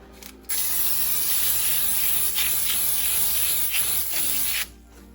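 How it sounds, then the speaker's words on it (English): Pan baking spray from an aerosol can coating a cake pan, one continuous loud hiss of about four seconds that starts and stops abruptly, close up and alone. "I'm going to spray the pan with some pan baking spray"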